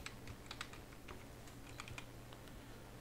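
Quiet, steady typing on a computer keyboard, rapid light key clicks in an irregular stream over a constant background hiss.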